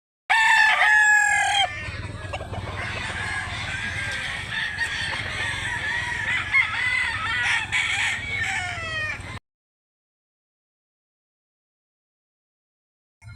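Roosters crow loudly and repeatedly at a gamefowl market in Mantalungon, Barili, Cebu, with overlapping crowing and clucking close by over a busy background, before the sound cuts off to silence.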